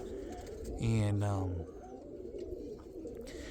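Roller pigeons in a loft giving a single low, rolling coo of about a second, close and fairly loud against steady background noise, while someone speaks nearby.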